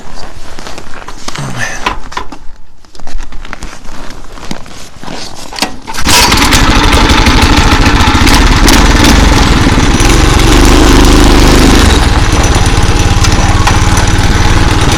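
A homemade motorcycle fitted with a Vyatka scooter engine is kicked and cranked with clunks and rattles, then fires and runs loudly and steadily at close range for the remaining nine seconds.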